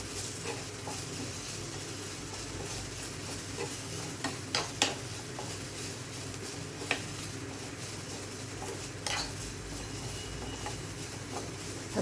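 Masala with garlic, cumin and pepper frying in a pan: a continuous close sizzle with scattered clicks and scraping stirs, no talking.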